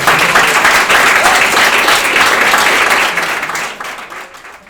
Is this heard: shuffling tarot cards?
no